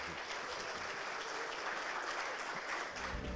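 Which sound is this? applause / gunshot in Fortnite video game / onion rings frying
applause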